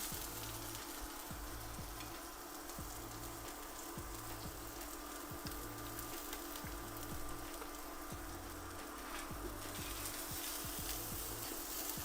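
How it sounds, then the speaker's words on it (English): Chopped garlic frying in a small amount of oil in a heated pan for Chinese stir-fried vegetables, a steady soft sizzle with faint periodic scraping of stirring. "Then we start with adding the chopped garlic."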